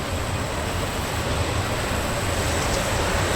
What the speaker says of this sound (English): And of course we got some train action going on up there.